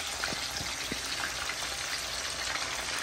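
Snapper frying in oil, sizzling and crackling steadily at close range, with scattered sharper pops over a constant hiss.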